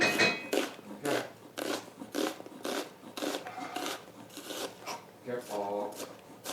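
A spoon scraping a baking pan in a home kitchen, with rapid rhythmic rasping strokes repeated steadily throughout, fairly close and moderately loud.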